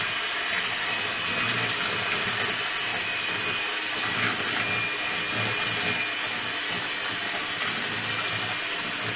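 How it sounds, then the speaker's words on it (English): An electric mixer whirs steadily while beating gluten-free vanilla cake batter with butter and milk, a constant motor hum with light rattling texture and no talking. "And you're going to beat that for about 3 to 5 minutes, depending on the speed of your mixer"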